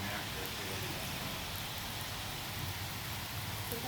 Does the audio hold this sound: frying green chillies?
no